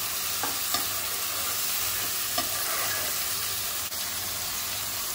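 Onion and tomato masala with tomato puree simmers and sizzles steadily in a pan for a prawn masala, with a continuous close frying hiss and an occasional faint stir or tap.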